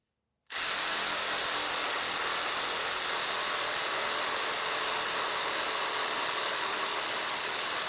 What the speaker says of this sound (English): We're letting the saw do the work for us, and it's going down through real nice like.